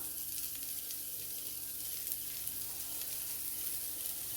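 Grated coconut sautéing in a pan for coconut chutney gives a continuous, even sizzle that stays close and steady throughout, with no speech.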